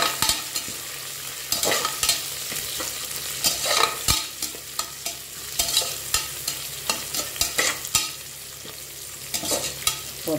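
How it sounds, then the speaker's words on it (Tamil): Continuous stir-frying of mint leaves in a pan: rapid clattering scrapes and tosses over a steady sizzle, close and lively throughout with no voices. "புதினா இதை போட்டு ஒரு பரட்டு பரட்டிட்டு அப்புறம் நம்ம வெங்காயம் போட்டுக்கலாம்"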